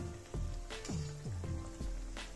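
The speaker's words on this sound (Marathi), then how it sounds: "हे बघा असे क्रिस्पी लालसर होऊस्तर तळायचे आपल्याला" Fenugreek cutlets fry in hot oil with a soft, steady sizzle, punctuated by a few clacks and scrapes of a utensil in the pan; no one speaks.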